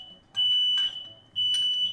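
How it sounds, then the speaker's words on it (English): A kitchen smoke alarm set off by smoky cooking, two loud, piercing electronic beeps in close succession, each lasting close to a second, with faint background clatter and no talking. "Is that the fire alarm?"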